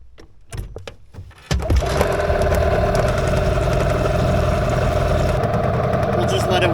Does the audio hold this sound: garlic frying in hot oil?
no